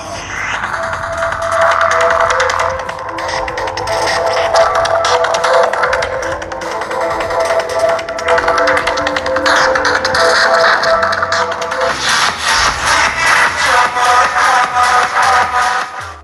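Music plays loudly from the stereo speakers of a Tecno Camon 40 phone, with a busy, continuous mix and a rhythmic pulse that grows denser toward the end.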